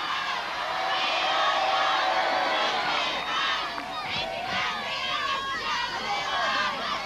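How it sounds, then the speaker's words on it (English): A crowd at a 1979 It's a Knockout contest in Great Yarmouth cheers and whoops, a continuous outdoor roar of many voices with children's shouts rising and falling over a few seconds. "A big cheer when it goes in."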